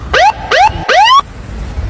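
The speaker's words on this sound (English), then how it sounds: "I'm going to use a siren to come out of traffic" Police car siren on a Jamaican road, three short rising wails in quick succession, loud and close, followed by traffic rumble.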